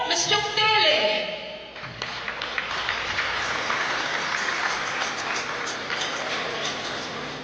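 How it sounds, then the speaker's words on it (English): An audience at a Goa tourism stakeholders meet breaks into sustained applause, steady and fairly loud, rising after a brief voice at the start and continuing to the end. "let's give a resounding round of applause to our very own champ"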